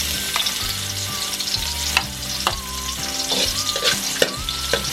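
Garlic sizzles in olive oil in a pan for a pineapple beef dish, a steady bright crackle broken by occasional scraping stirs and light utensil knocks.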